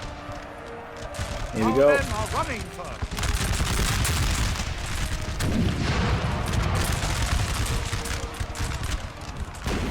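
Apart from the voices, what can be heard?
infantry musket volley fire in the video game Napoleon Total War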